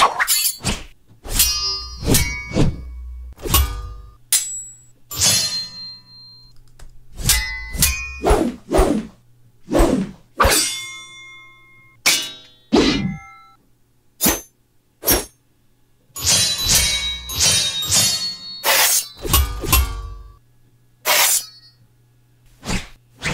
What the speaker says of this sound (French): le bruit des épées et des whoosh des épées